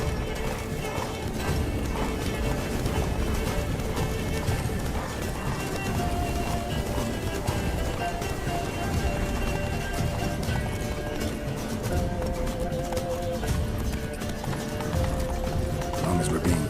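Roach, the horse in the video game Witcher 3, gallops at a steady, continuous clip-clop pace throughout, mixed with background music and some talking.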